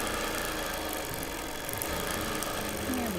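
A home sewing machine quilting a Christmas quilt runs in a steady continuous mechanical whir, close and fairly loud, with no pauses through the stretch.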